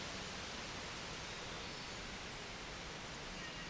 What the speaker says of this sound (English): So there's a lot of wind going on in the yard. You probably hear that breeze.